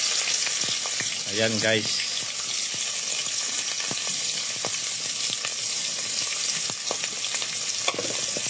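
Garlic fries with onion in a pan as the base for tinolang manok, a Filipino chicken soup, making a loud, constant sizzle with brief stirring clatter. A voice speaks briefly over it.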